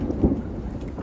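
A heavy thunderstorm over Cheney, with a loud rumble of thunder building and fading over steady pouring rain close by.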